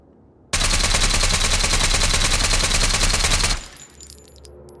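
Full-auto suppressed rifle fire in the survival game Road to Vostok, one unbroken loud burst of rapid shots lasting about three seconds, then a brief fading tail and quiet mechanical clicks.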